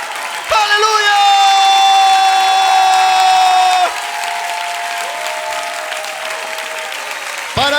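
A church congregation claps loudly and steadily through a worship service, with sustained keyboard or organ chords ringing over the applause before the chords drop to a softer held tone.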